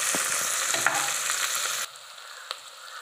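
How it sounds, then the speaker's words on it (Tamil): Sliced onions sauté in a pan for veg biryani, a bright close sizzle with a few stirring knocks that drops sharply to a much quieter hiss partway through, one clink near the end. "இப்போது நல்லா வெங்காயம் வந்து வதங்க ஆரம்பிச்சிச்சு"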